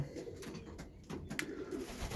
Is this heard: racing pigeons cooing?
yes